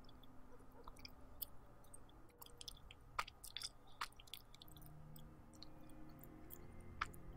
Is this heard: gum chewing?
yes